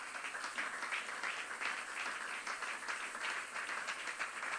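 A church congregation gathered for a prayer marathon claps and applauds steadily at a distance, a dense, even patter of many hands with no talking.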